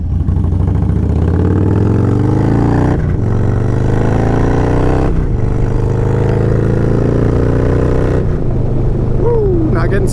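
A custom Harley-Davidson Dyna Low Rider S V-twin engine revs hard several times in an outdoor park, loud and close, with rising pitch sweeps between throttle blips and a steady rumble underneath.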